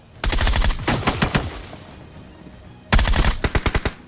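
Bursts of rapid automatic gunfire in a shooting video game, two loud close volleys separated by a quieter stretch of reverberant tail.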